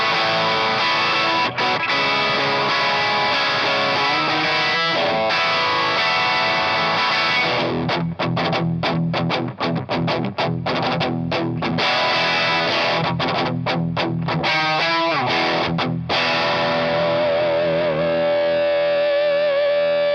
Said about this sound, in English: Now I'm going to add the JHS AT Plus.